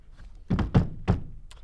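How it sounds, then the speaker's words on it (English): Three dull, heavy thumps of a fist banging on a table during a film-discussion panel, the first two close together and the third a moment later, loud and near. "Please don't bang the table."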